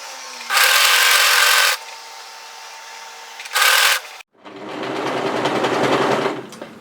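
An overlocker sews hoodie seams in two loud, fast bursts of whirring stitching with a short pause between them, followed by a softer rubbing and scraping of fabric being handled.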